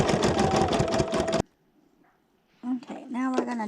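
A sewing machine stitches eye details onto a hooded towel in a steady, fast mechanical whir for over a second, then stops; a pause follows and someone begins talking.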